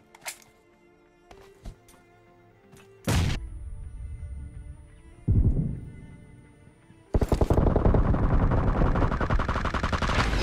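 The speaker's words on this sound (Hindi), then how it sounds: "मेरा जो मतलब एम सेवन सिक्स टू थी ना वो ब्रस्ट मोड पे थी और इसलिए जैसे मैं गोली मारता हूँ दो ही गोलियां निकलती है" M762 rifle in burst mode in PUBG Mobile, sharp gunshots in short pairs and clusters, growing into heavy, loud sustained fire toward the end, with no voices.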